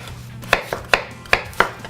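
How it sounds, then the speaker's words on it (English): A knife chops through red potatoes on a board: five crisp, sharp cuts at an uneven, moderately quick pace, close and clear, with quiet pauses between strokes and no talking. "I'm gonna cut through these."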